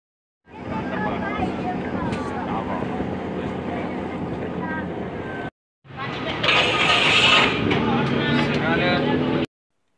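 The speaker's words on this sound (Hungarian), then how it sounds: "A mi vaporettunk elég hangos volt," Engine of a vaporetto water bus in Venice, a loud steady rumble with wind buffeting the microphone, briefly cut off then resuming louder with rushing wind and water noise.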